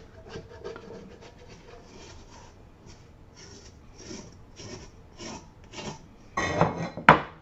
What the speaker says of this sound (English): Scrape the rest of this out of the bowl